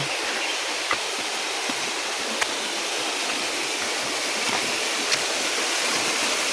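A waterfall roars in a steady, dense wash of falling water, close and loud, with faint splashes flickering through the constant rush.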